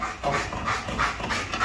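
A dog pants rapidly and steadily in short rhythmic breaths, close and fairly loud, with no talking over it.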